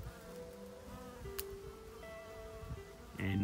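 Honey bees foraging on leptospermum (jelly bush) flowers buzz in a low steady drone outdoors, with brief higher whines as individual bees pass close and a louder burst at the end.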